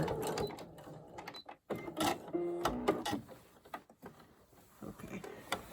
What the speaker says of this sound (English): So, sewing along the edge there.